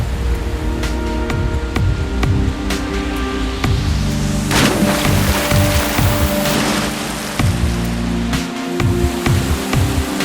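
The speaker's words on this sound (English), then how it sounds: "The gushing rapids make for one of the best rafting experiences down south." Gushing river rapids on a southern Indian rafting stretch, a steady loud wash of rushing water filling the scene with broadband roar and scattered splashes, continuous throughout with no voices.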